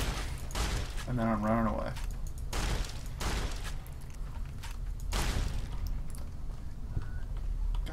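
Shotgun blasts in Fallout during a fight with giant scorpions, several loud booming shots spaced a second or two apart over rumbling game noise, while someone talks between them.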